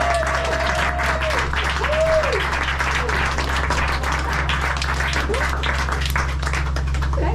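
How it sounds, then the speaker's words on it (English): Sustained audience applause welcoming comedians onto a stage, a continuous dense crowd clapping at even loudness for several seconds, over a steady low hum, with brief vocal whoops or cheers rising above it. "we're going to applaud the two acts who are coming in"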